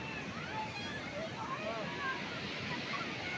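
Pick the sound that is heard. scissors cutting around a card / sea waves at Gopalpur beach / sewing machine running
sea waves at Gopalpur beach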